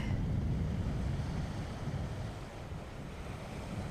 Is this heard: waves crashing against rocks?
yes